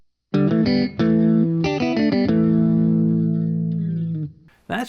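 Electric guitar harmony lines, two melodic parts playing together with effects and distortion, a quick run of notes settling into a long sustained held note before fading, loud and alone.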